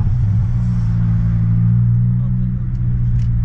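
A car engine idles with its exhaust valves closed, giving a deep, steady, close rumble with a strong low hum that stays even throughout, without revving.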